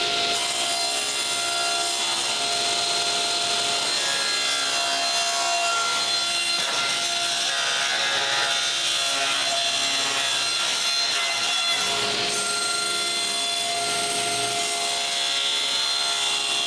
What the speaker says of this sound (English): When it's all traced up, I can cut the plywood.